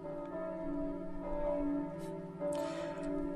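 A church bell rings in a small Italian town, its steady, sustained tones humming continuously through the whole stretch at moderate loudness, with no voices over it.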